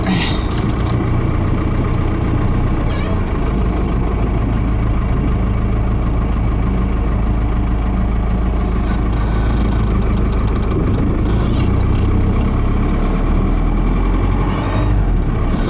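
A vehicle engine idles steadily and close, a continuous low rumble with a few sharp clunks as the M5OD-R2 transmission is shifted into gear.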